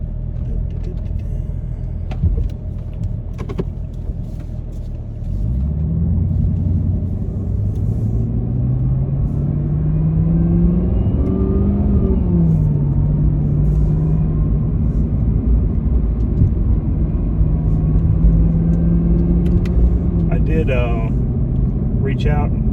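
A 2020 Chevrolet Camaro ZL1 1LE engine rumbles from inside the car while driving, a deep steady drone whose pitch climbs and falls as it accelerates and shifts.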